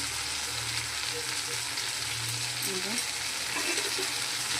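Boiled mung dal poured into a pan of sizzling masala, a steady close frying hiss with soft liquid gurgles and a faint voice underneath.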